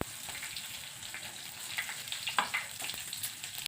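Mustard seeds, cumin and green chillies fry in hot oil in a kadai, giving a soft, steady crackling sizzle with faint scattered pops and no voices.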